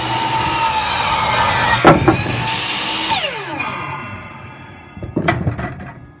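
A power saw cuts through a small wood piece for a laundry closet build, a loud continuous whine lasting several seconds, dipping briefly midway, then tapering off with a few knocks and clatters at the end.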